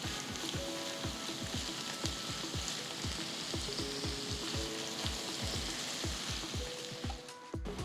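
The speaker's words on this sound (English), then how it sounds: "Next add 2 onions thinly sliced and saute till they turn to a nice golden brown color." Two thinly sliced onions sautéing with whole spices and peppercorns in a pan for a brinjal dum biryani. A steady, close frying sizzle is broken by regular scraping stirs, with no talk.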